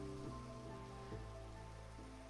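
Steady rainfall patters quietly in a video game night scene, a soft continuous hiss with faint recurring tones layered underneath.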